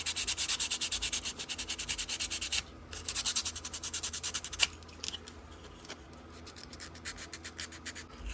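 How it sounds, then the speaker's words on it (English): Wet sanding a damaged model with fine 1000-grit sandpaper: steady rhythmic rasping strokes, close and fairly loud, with a short pause near the three-second mark. "I broke out the 1000, wet sanded it, and was able to get this stuff pretty much cleaned off"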